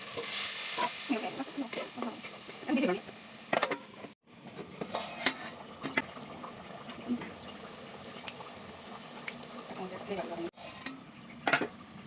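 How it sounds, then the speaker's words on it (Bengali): Hilsa pieces sautéed in mustard oil left over from browning onions, a low, uneven sizzle broken by scraping and stirring clatter of a pan, with occasional voice-like sounds mixed in. "এখন ওই তেলেই মাছটা কষিয়ে নেব।"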